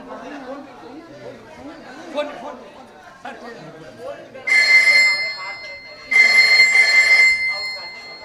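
A telephone rings loudly in two long electronic bursts, cutting in after a stretch of nearby talking and chatter.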